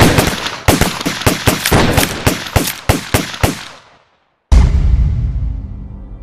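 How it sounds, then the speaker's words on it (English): Gunfire in a tense film shootout: a rapid burst of about a dozen loud, sharp shots with echoing tails fades out, then after a brief silence a single heavy blast rings out and decays. "Take the shot. Shoot him, Rolando"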